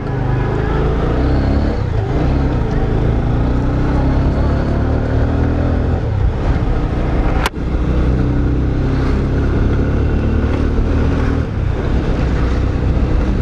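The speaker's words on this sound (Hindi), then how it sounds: "फाइनली दार्जिलिंग की गलियों में बाइक को दौड़ाते हुए" A Bajaj... no — an Apache 160 motorcycle ridden through the streets of Darjeeling, its engine a steady close drone with rushing wind noise throughout and one brief sharp click midway.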